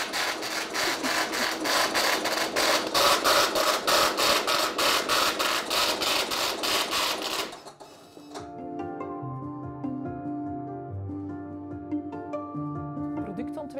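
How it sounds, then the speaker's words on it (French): A Braille printer embossing dots on paper hammers out rapid, loud, rhythmic strikes for about seven seconds, then stops abruptly before music with a voice follows. "Elle frappe les points sur le papier et on l'entend bien."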